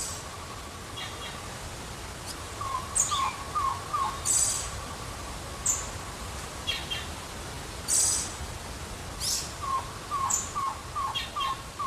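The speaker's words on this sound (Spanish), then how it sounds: "podrá descubrir entre las ramas el tocororo, el pájaro nacional de Cuba" A tocororo, the Cuban national bird, calls from among the branches. Short, bright notes repeat in small bursts against a steady background hiss, moderately close and without any talking.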